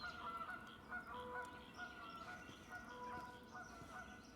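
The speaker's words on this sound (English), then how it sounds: "Hello, geese!" Several geese honk repeatedly in a video game, overlapping calls at a moderate distance with a soft ambient bed behind them and no talking.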